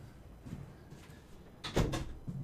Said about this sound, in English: Let me go ahead and shut my door.